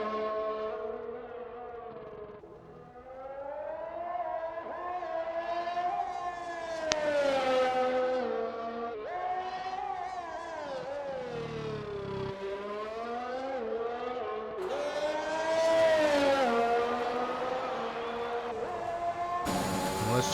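F1 car engine screaming through a flying lap in the Xbox F1 game at the Australian circuit, a high wailing whine that climbs and drops with each gear change and corner, with commentary voices underneath.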